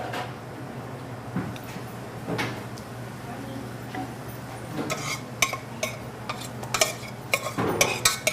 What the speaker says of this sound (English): we're gonna mash the pumpkin and the vanilla and the tahini together